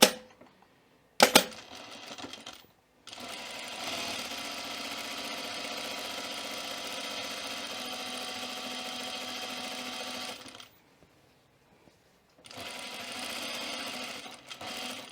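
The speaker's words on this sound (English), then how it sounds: "Now we're going to sew along, and it's going to catch that edge inside the fold." A sewing machine topstitching along the folded edge of a shirt placket: a short burst, then a long steady whirring run of about seven seconds, a pause, and another run starting near the end.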